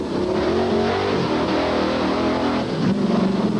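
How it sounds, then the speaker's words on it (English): Bigfoot 5 monster truck with ten-foot tires revs its engine at the 1989 Indianapolis 4-Wheel & Off Road Jamboree, a loud, continuous, close engine roar that dips and surges again near the end. "Here it is, the king of the monster trucks."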